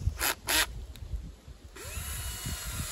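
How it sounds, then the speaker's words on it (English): A power drill bores about 3 to 4 centimetres into the trunk of a dieback-affected tree, giving two short whirring bursts near the start, then a quieter steady whine later on, close by with faint background noise. "So, drilling in about 3 to 4 centimetres."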